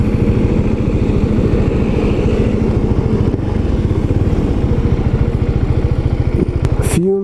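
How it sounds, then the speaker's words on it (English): A Husqvarna Vitpilen 701 single-cylinder motorcycle engine idles loudly and close, a steady rapid thumping with mechanical clatter, ending in a brief high squeal. "It's an awesome motorcycle."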